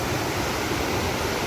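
Water rushes continuously beside a temple, a steady, broad roar like a small cascade or fast stream, close and unbroken.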